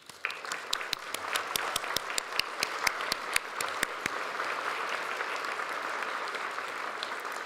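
An audience at a graduation ceremony for Craft Academy staff gives steady applause, with scattered sharper claps standing out early, then settling into an even, moderately distant wash of clapping that continues to the end.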